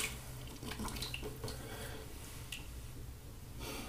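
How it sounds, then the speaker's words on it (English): A bathroom tap runs steadily while shaving lather is rinsed off, a continuous close hiss of water with a few faint clicks and no talk. "All right, let me rinse off."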